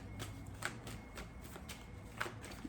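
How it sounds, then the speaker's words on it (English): Tarot cards being shuffled by hand, a soft, close riffling and sliding of card stock repeating in quick bursts, quiet and alone. "I'm gonna pull a few more cards."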